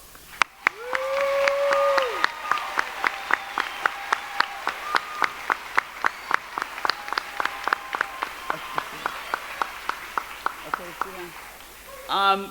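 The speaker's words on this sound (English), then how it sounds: "Please stand up and take an applause." Applause at a 5th grade graduation, a ragged run of individual claps spread across the room, steady but sparse, with a speaking voice and murmuring crowd heard over the opening seconds and some talk near the end.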